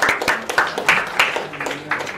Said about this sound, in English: Oh, so is that a clap for him?